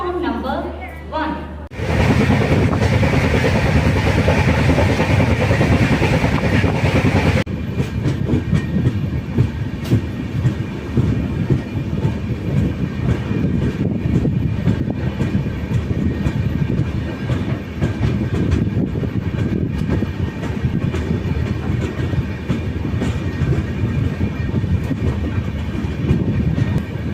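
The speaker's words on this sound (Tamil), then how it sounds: "Mettupalayam Special Express via Dindigul Junction, Palani, Pollachi Junction, Coimbatore has arrived on platform number 1." The Mettupalayam Special Express rumbles into platform 1, its wheels clattering loudly and steadily over the rails, close by, while a station announcement plays over the noise.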